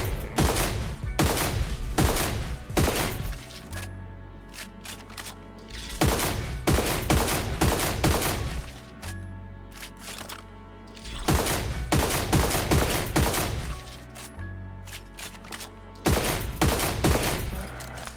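Sniper rifle fire in the video game Destiny Rising, loud repeated shots in bursts with sharp cracks and short gaps between volleys, heavy low-end impacts, no talking.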